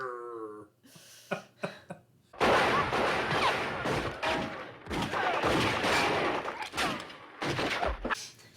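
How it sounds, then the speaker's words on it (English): Loud, sustained gunfire from a film scene as a group of men open fire on Doom, with a few sharp isolated shots first and then dense, continuous volleys of shooting. "They all start shooting him"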